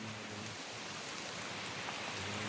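Heavy rain pours down steadily as a dense, continuous hiss with no voices, loud and close throughout.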